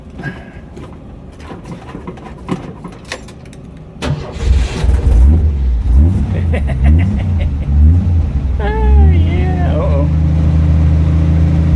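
An old Jeep CJ-5 engine cranks briefly, then catches and settles into a loud, steady low rumble that runs on to the end, after earlier clatter and some rising and falling revs. Voices are heard over the running engine.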